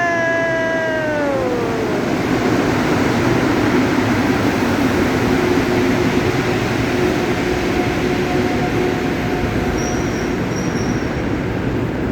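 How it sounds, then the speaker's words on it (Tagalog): Train arriving at a station, a loud, steady close rumble of rolling wheels and cars with a falling tonal whine from the slowing motor early on and faint high squeals later. "Train is coming!"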